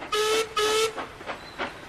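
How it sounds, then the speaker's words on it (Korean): Two long, loud steam whistle blasts sound in succession, followed by softer chuffing puffs of a steam train, from a Thomas & Friends cartoon. "익숙한 기적 소리가 들려왔죠"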